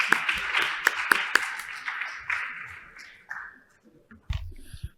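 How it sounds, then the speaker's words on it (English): Conference audience applauding as a professor is welcomed to the stage at an Islamic finance annual conference, a dense wash of claps that fades out, followed by a short shuffle and a bump near the end. "Ladies and gentlemen, please welcome a huge round of applause to Professor Dr."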